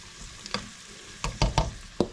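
Onions frying in a pan, with a soft sizzle under several sharp scraping and stirring clatters that come in bursts, close and fairly quiet.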